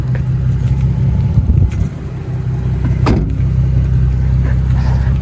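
Nissan 350Z that has sat unused for a long time pulling out onto the street, its engine a steady close low rumble with a brief clunk and faint rattles over it.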